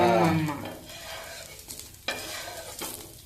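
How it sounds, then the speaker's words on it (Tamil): A halved large onion dipped in oil is rubbed across a hot stone griddle, giving soft scraping strokes and light sizzling, with a few sharper scrapes later on. "இந்த மாதிரி பெரிய வெங்காயத்தை கட் பண்ணி எண்ணெய் விட்டு ஒரு தரம் தேய்ச்சிட்டு ரெண்டு மூணு தரம் கூட தேய்க்கலாம்"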